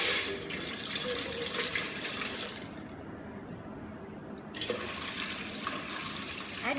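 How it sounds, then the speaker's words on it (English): Tap water pours steadily into a pot for chicken soup, a close splashing rush that drops away briefly in the middle before resuming. "First, let me add some water into it."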